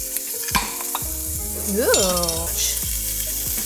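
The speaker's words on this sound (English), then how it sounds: "I make sure all of the gnocchi pieces are nice and like crispy first before I add any sauce" Gnocchi pieces sizzle and crisp in a hot pan, with steady loud frying hiss and occasional stirring scrapes and clinks; a person briefly exclaims.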